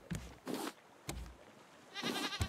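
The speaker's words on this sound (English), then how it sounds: "with a bucket, we can actually milk the goat" A goat bleats in the survival video game Raft: several short, nasal bleats in quick succession, close and clear, with no talk.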